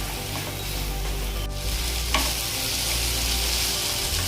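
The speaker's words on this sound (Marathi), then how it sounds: "आता हे टोमॅटो परतून झाल्यानंतर इथे 2 चमचे आलं लसूण पेस्ट टाकायची। ते छान परतून घ्यायचे।" Ginger-garlic paste sautéing with tomatoes in a pan for Amritsari paneer bhurji, giving a steady broadband sizzle with a couple of brief stirring scrapes, close and continuous with no talking.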